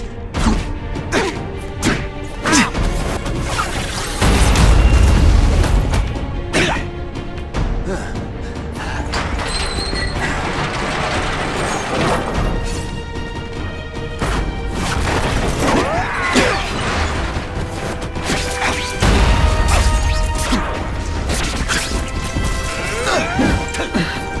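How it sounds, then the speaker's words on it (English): Heavy crashing impacts from a seismic blast attack in a Spider-Man video game, with two deep booming surges over a dense bed of game music, smashes and whooshes running throughout. "Neither does the seismic blast."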